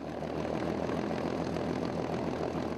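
Propeller airplanes flying aggressively produce a loud, continuous engine drone with a steady, throbbing roar throughout.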